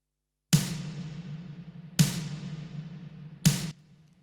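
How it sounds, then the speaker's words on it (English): Three sampled snare hits, bright and crisp with a short ringing tail, spaced about a second and a half apart with nothing else around them. "I'm also putting a snare sample on top of there"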